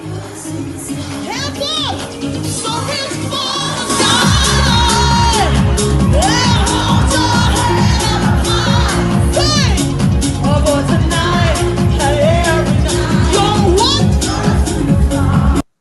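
Concert crowd cheering and yelling as the performer hypes them up, loud whoops and shouts over a pounding live band beat that kicks in a few seconds in and drives steadily to the end.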